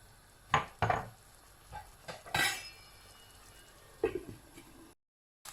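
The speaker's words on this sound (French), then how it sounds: "Donc là, on va couvrir et laisser cuire tout ça" A lid is set onto a cooking pot of tomato-sauced stuffing, giving a few close metallic clanks and knocks with a brief scraping rattle, then quiet.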